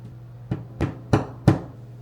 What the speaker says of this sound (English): Why do I hear a hammer?